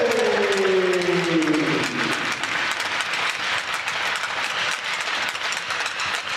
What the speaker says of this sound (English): Please give a round of applause to senior forward,